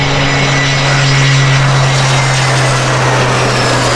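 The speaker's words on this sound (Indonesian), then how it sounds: "Wow, pesawat terbang biru sudah beraksi. Pesawat terbang yang sangat keren, punya baling-baling yang bisa berputar." A blue toy propeller airplane running, a loud constant motor drone with a steady high whine that fills the clip without pause.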